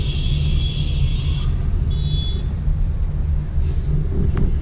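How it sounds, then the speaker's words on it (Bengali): Car crossing Howrah Bridge in Kolkata during light drizzle, heard from inside: a steady, loud low road rumble that continues without a break, with faint higher tones briefly on top. "আমরা এখন হাওড়া ব্রিজ ক্রস করছি।"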